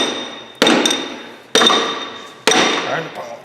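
Rubber mallet strikes on a work job, three sharp close blows spaced about a second apart, each ringing out and fading before the next, with faint background sounds.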